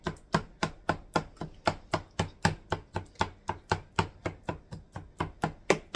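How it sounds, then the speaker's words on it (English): Peaches get crushed with a hamburger meat crusher, about twenty crisp, evenly spaced chops and squelches in a steady rhythm, close and alone with no talking. "And I'm going to use my crusher that I use for hamburger."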